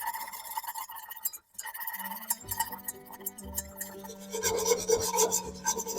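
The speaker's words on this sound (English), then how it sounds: "I'm just scraping up some little bits that have formed on the bottom, little brown bits." Brown bits get scraped off the bottom of a pot of cream of broccoli soup with a utensil, producing rough, repeated rasping strokes with faint clinks, close by and moderately quiet, with no talking.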